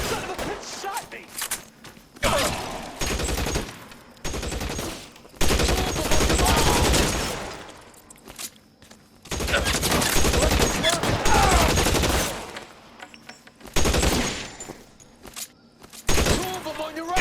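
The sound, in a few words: gunfire in shootout, video game L.A. Noire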